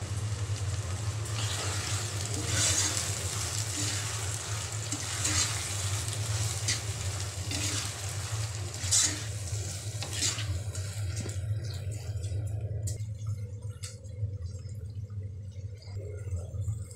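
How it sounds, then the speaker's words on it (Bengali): Soaked biryani rice being stirred into beef in a pot, with a steady close scraping and soft sizzle that runs continuously, easing off slightly near the end. "এখন বিরিয়ানির চালটা মাংসের সাথে খুব ভালোভাবে মিশিয়ে নেব।"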